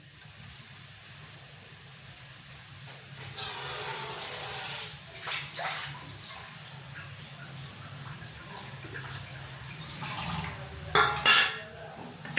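About half a glass of water is poured into dry rasam powder in a cooking pan, a short splashing rush in the middle, surrounded by faint clinks of utensils.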